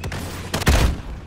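Gunfire from Call of Duty Modern Warfare gameplay: a quick burst of shots early, then a heavier volley of close, booming gunfire in the second half, loud and without speech.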